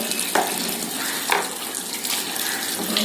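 Tap water runs steadily into a large bowl being washed in a home kitchen, with a few soft knocks and splashes from handling it.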